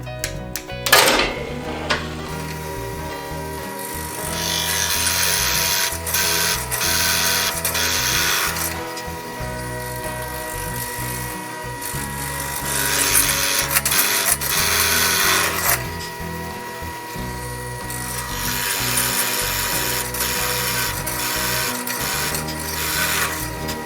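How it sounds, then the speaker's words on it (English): A Forstner bit in a drill clearing out a mortise in black walnut, a loud, close mechanical whir that surges and eases in long passes as the bit bores repeatedly into the hardwood. "I'm going to use a Forstner bit to clear out a lot of the excess material."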